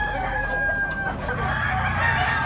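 A Kelso bloodline bullstag rooster crows once up close, a loud drawn-out cock-a-doodle-doo with a bright sustained tone over steady background noise.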